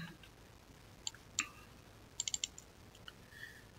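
Mouse clicks on an OK button in Bluebeam software on a computer: a few short, faint clicks, one near the start, then a quick burst of three or four, over quiet room hiss.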